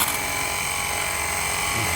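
A Jet Washer 588 VF portable pressure washer runs steadily up close, producing a continuous dense motor hum and hiss with no pauses.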